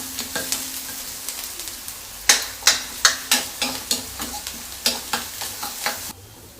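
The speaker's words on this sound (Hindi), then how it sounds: "हमारा प्याज भी पक रहा है, इसे भी थोड़ा बीच बीच में चला लेंगे।" Onions cooking in a pan are stirred with a utensil, giving a series of sharp scraping knocks in an irregular rhythm over a soft background sizzle.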